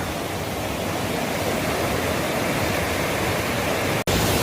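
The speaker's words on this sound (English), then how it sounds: "So here we are at Barbara Falls, the best waterfall in all of the Chugach State Park, dominating at a 30 feet in height." Barbara Falls, a 30-foot waterfall on the South Fork Eagle River in Alaska's Chugach State Park, roars as a steady, dense broadband rush close by, filling the whole stretch without pause apart from one brief dropout near the end.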